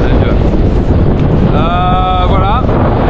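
Strong wind above 40 knots roars steadily over a Figaro 3 sailboat at sea, loud, close and buffeting, with a whistling tone rising briefly in the middle.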